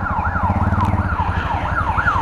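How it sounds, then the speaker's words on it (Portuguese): An ambulance siren wails in a steady rising-and-falling pattern through traffic, loud and continuous over the low rumble of engines, heard from a motorcycle. "a ambulância tá vindo, tá morrendo gente"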